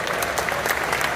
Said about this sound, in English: Guys, can we get a round of applause for Tyler and Leah,